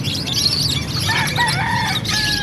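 A Brahma rooster crows loudly and close at a market in Calumpit, a long harsh cock-a-doodle-doo with other fowl clucking in the background.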